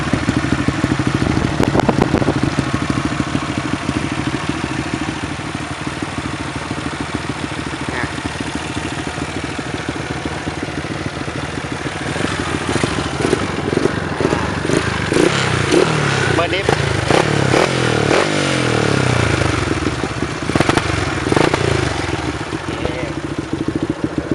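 A Yamaha Spark 135 motorcycle engine runs steadily with a throaty exhaust rumble, revving and crackling more in the second half, with people talking over it.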